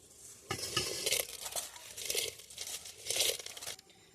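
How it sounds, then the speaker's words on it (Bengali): Govindobhog rice pours into boiling water for prawn biryani, making a close rustling, crackling rush that comes in uneven bursts over a bubbling background. "জলটা ফুটে গেছে এর মধ্যে আমি চালটা দিয়ে দেবো"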